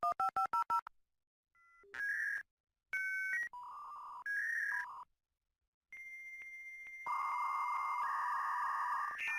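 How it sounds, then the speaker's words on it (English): A dial-up modem connects: quick dialing tones, then a sequence of beeps, warbling tones and a loud, sustained hissing screech. "Like that dial tone."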